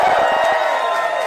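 Crowd at an election night speech in New York cheering and whooping, a dense steady roar with shouts rising over it and a voice faintly under the noise.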